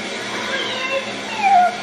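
A cat meows in distress while dressed in a costume, a drawn-out complaining cry that rises near the end, fairly close and steady with household noise behind it.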